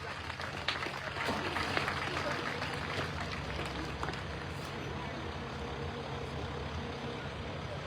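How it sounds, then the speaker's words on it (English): A crowd applauds at a county fair truck pull in Walton, New York, with steady, dense clapping over a low engine rumble and voices. "Let's give Billy a round of applause"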